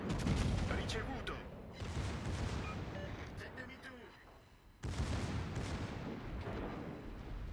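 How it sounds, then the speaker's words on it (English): Secondary guns on the battleship Giuseppe Verdi firing in a naval combat game, a dense, continuous barrage of booming shots that rolls on without a break and surges again near the end. "It's not my main guns, it's my secondaries, right?"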